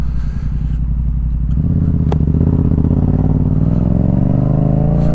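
A vehicle engine revs up hard and accelerates, a loud continuous rising roar close by with a brief clatter partway through and no talk.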